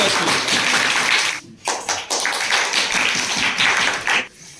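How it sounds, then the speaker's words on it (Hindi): Schoolchildren at a science quiz competition in Uttar Pradesh clap together for a correct answer, a loud, dense burst of applause that briefly dips twice before picking up again and then stopping. "एक बार ताली बजा दो"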